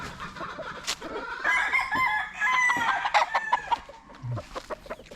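A rooster crows loudly nearby amid steady clucking from a farm flock of about 40 chickens, with short calls overlapping through the whole stretch.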